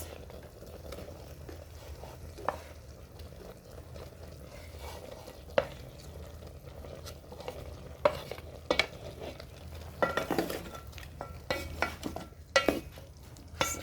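Onions frying and being stirred in a cooking pot with goat meat in an African village kitchen, a steady sizzle broken by scraping utensil clacks that grow busier toward the end.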